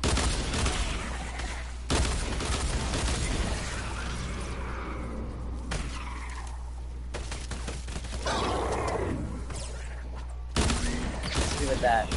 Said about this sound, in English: I'm gonna shoot a couple grenades if I can.